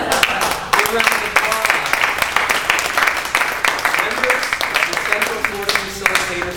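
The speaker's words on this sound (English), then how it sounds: "applause" Audience applause fills a Toastmasters club awards ceremony, a steady dense clapping from a roomful of people, loud and continuous throughout.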